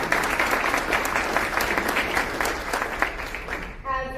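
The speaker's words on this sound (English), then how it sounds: "just round of applause for them for this amazing event" Audience applause fills a hall at a Republican summit event, dense steady clapping from a crowd that tapers off near the end.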